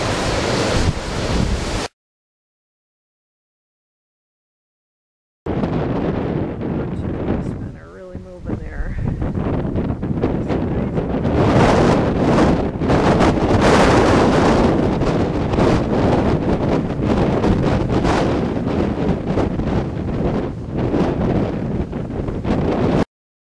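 Strong wind roaring during an October windstorm in 2010, loud continuous gusts buffeting the microphone for most of the stretch after a brief silent gap, with a short voice-like moment amid the rush.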